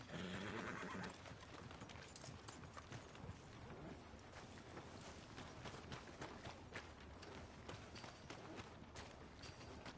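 A horse in the Red Dead video game whinnies close by, followed by steady clip-clop hoofbeats at a quiet overall level.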